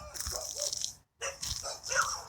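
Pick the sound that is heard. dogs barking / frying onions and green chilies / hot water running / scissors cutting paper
dogs barking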